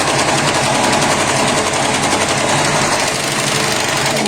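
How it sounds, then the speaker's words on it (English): An overlocker stitches across the edge of fabric, a loud, close, continuous rapid mechanical whir with a fast even pulse, running without pause from start to finish. "we're about to cross over it with another lot of overlocking"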